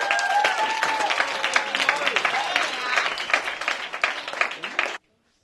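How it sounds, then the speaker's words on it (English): An audience at a high school poetry slam breaks into loud applause with cheers and whoops, a dense, sustained wash of clapping that cuts off abruptly after about five seconds. "Give her a big round of applause"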